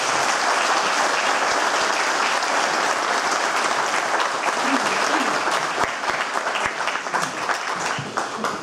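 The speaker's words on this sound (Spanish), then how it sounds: "Pido un fuerte aplauso para los panelistas" Audience applause for a panel of speakers at a question-and-answer session, a steady, dense wash of clapping from a sizeable crowd that carries on throughout, with a few sharper individual claps and a faint voice near the end.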